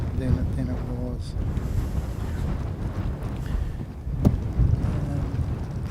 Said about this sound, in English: we definitely get some pretty gusty conditions